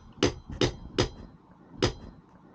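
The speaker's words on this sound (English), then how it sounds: "And now, you can start hammering out the bearing." A punch is hammered against a wheel bearing on a 2002 Suzuki GS500 motorcycle, four sharp metallic strikes: three evenly spaced, then a short pause and a fourth, each ringing briefly in a quiet room.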